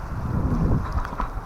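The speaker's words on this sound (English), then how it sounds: "Sorry for the wind." Wind buffets the microphone on a river during kayak camping, a loud rumbling low roar in uneven gusts, with no speech.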